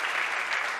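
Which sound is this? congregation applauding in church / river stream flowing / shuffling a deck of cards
congregation applauding in church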